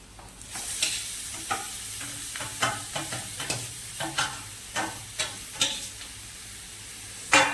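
Red spinach is stir-fried in a pan for thoran, with about a dozen rhythmic scraping stir strokes over a soft continuous sizzle, close and clear, with no talking.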